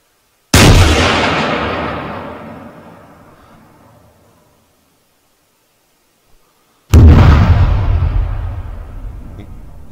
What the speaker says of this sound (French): il y a quasiment une seconde entre l'image de l'explosion et le moment où le son arrive